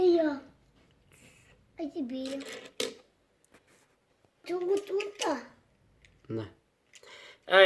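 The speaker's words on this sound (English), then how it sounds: "It's just my kids playing around here a little bit." Young children play and chatter in a room, their high voices and small clicks and taps coming in short bursts between pauses, close by, with an adult voice briefly speaking too.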